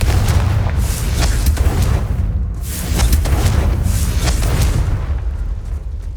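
Deep, rumbling booms of the Confringo explosion spell in Hogwarts Legacy roll out in loud, overlapping waves, several blasts in a row over a constant roaring bed.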